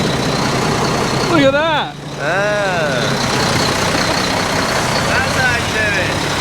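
A heavy vehicle with a faulty gearbox idles steadily, close and loud, as it is backed up, with a person talking over the engine's rumble and whine.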